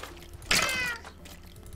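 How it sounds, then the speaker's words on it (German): A hostile Wither Cat meows once in a Minecraft-style video game, a single loud, drawn-out cry standing alone against quiet background sound. "Ah, die hat die Katze dabei. So eine ultra fiese Wither Cat."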